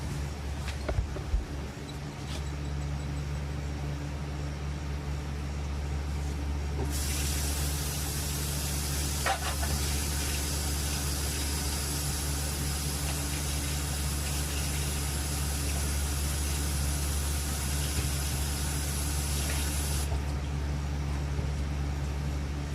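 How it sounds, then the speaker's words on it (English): A chile relleno drops into a hot pan and sizzles, a broad steady frying hiss that swells in partway through and holds for about thirteen seconds over a low kitchen hum, then fades back. "And I'll go put this one into my hot pan."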